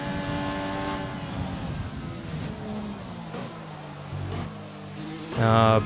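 An F1 race car in the F1 2020 video game struggles with a failing gearbox: its engine drones and shifts pitch, dips, then surges loudly at the end, with a voice talking over it.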